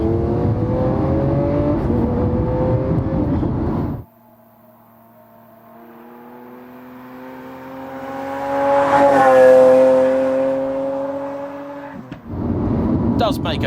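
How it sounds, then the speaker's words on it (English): Lamborghini Aventador V12 engine revving, rising in pitch to a loud peak then falling away, with a steady high-revving drone in the middle. "A few too many pops and cracks than I would like, but it sounds epic and very distinctly Lamborghini."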